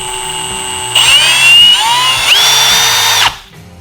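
A Milwaukee M18 Fuel Gen 3 cordless drill driver whirs loudly in two bursts at variable speed, its pitch rising and shifting as the speed changes, then winds down to quiet.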